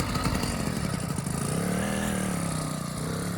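An 80cc motorized bicycle engine runs close by with a loud, buzzing two-stroke drone that rises and falls slightly as the throttle eases, continuous throughout with no voices over it.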